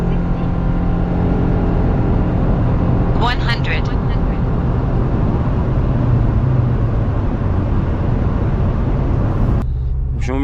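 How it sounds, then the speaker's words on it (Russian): A 1.8 turbo Subaru Forester SK5 accelerating at full throttle, a loud steady engine drone with a brief whine and shift change near the end, under someone talking. "Когда мы просто педаль в пол утапливаем, машина начинает отщелкивать имитации передач."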